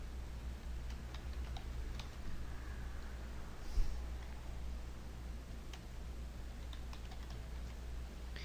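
Fingers type on a computer keyboard in light, scattered keystrokes under a steady background hum, quiet and close, no voices.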